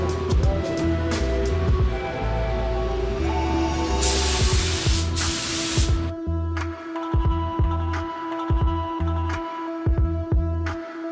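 A spray gun hisses in two loud bursts while paint goes onto Subaru STI body panels, set against steady music with a thumping beat and no talk.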